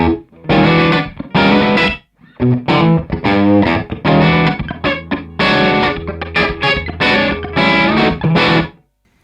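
Electric guitar through a REVV D20 amp playing distorted chords and riffs in phrases, with a short studio room reverb trailing each stop.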